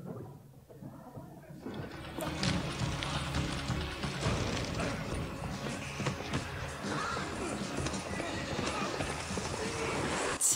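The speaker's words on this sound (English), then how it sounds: "John Wick on a horse" Rapid hoofbeats of a galloping horse pound amid dense, loud action noise and music from the film John Wick 3, with voices mixed in.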